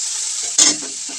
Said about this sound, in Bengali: চালগুলো ভাজা করছি।